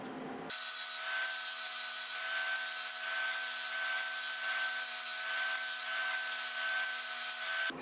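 A hand file works the face of a steel hammer, a continuous steady rasping that sets in after a brief pause and runs evenly and close up, with no voices.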